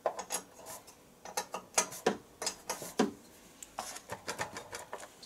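Screws on the fuel pump of a Stiga Park ride-on mower with carburettor problems being unscrewed, heard as a close, quiet run of small rhythmic clicks and ratcheting ticks.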